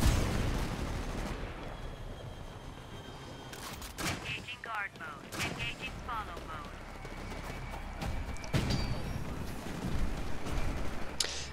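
Gunfire rings out in the video game Titanfall during an Attrition match, with scattered loud shots and short bursts over the game's ambient battle noise, alongside voice-like sounds.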